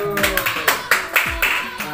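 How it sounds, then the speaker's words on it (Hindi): A baby claps its hands several times at an irregular pace during a feeding ceremony, the claps close by with adults talking and coaxing in the background. "चलो बेबी ताली बजा"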